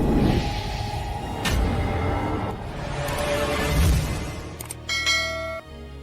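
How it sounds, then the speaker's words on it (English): Church bells ring out three spaced strikes, resonant and echoing, over a low wash of ambient sound and a brief swoosh, in a Heroes III fantasy narration. "Church bells ring 3 times, their echo rolling over white stone roofs"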